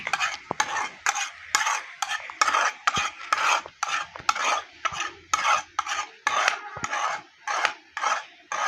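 An egg stirred in a pan over a gas cylinder stove in a Pakistani village kitchen, a spoon scraping the pan in quick repeated strokes, steady and close with short pauses between bursts, no talk.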